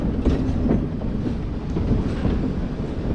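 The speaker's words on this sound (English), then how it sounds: "all-gear driven locomotive rather than a straight rod driven locomotive" A geared Shay steam locomotive rolls along mountain logging rails, a steady dense rumble with faint rhythmic clatter and wheel noise throughout, fairly loud and continuous with no talk.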